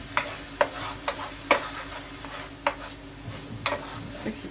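Pieces of pork filet mignon sautéing in a hot pan, a continuous sizzle with repeated sharp spatula scrapes and taps about every half second as the pieces are stirred and separated.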